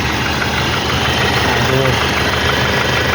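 A used Isuzu D-Max pickup's diesel engine idles steadily up close, a constant loud mechanical rumble with a faint knocking character, and a voice talks over it.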